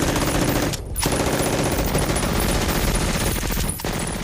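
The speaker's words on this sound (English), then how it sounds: "the machine gun fire is not ceasing" Machine gun fire on Omaha Beach in a war film, a loud, dense, continuous rattle of rapid bursts with only two brief gaps.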